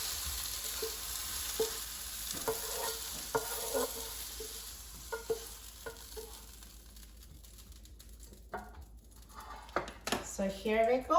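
Mushrooms being sautéed in a frying pan give a low, faint sizzle while a spatula stirs and scrapes in scattered clicks, under a person talking.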